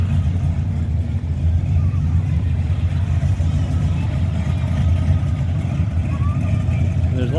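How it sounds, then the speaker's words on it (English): A Chevrolet Blazer drives by at a Route 66 cruising reunion car show, its steady engine rumble continuous beneath the crowd ambience, with people talking nearby. "there's that Blazer going again, driving by."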